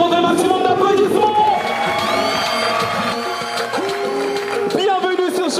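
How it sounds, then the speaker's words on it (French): A studio audience on a television variety show cheers and whoops in a loud, lively burst, with shouting voices mixed through the crowd noise. "faites entendre un maximum d'applaudissements"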